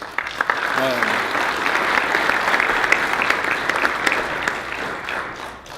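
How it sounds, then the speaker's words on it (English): A luncheon crowd at a collision repair industry awards event gives a round of applause for corporate supporters; dense, even clapping fills the room throughout, with a brief voice near the start. "how about one more round of applause for all the corporate support?"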